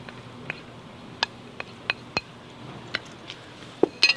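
Mashed potato with raw chopped leeks and fried bacon lardons is stirred in a bowl: a quiet scatter of irregular clinks and taps of utensil on dish, sparse and close, with no talk.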